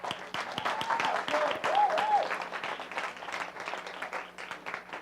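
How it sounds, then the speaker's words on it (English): Audience at a live presentation breaks into sustained applause, dense clapping throughout with a voice briefly heard over it before it thins toward the end. "Let's give them a round of applause."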